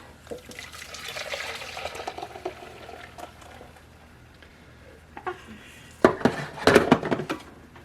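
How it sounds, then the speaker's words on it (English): Vegetarian pot pie filling liquid splashes and pours in bursts into a large saucepan, with clinks and clatter, growing louder and busier toward the end. "So we're going to pour this into a large saucepan."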